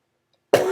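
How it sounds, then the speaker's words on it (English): One short, sharp cough breaks a silence, close to the mic. "Sorry for the cough"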